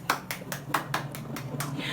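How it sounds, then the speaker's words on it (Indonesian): Students in a classroom clap together in a rhythmic pattern of sharp, evenly spaced claps, about eight beats in two seconds, fairly close and lively. "Mari anak-anak kita beri tepuk tangan yang sangat meriah untuk Mas Ajis."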